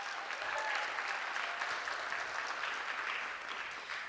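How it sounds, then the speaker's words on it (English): Fairly faint, distant applause from an audience at a school multicultural show after a singer's performance, steady and sustained for several seconds before easing off. "Let's give Jaden another round of applause"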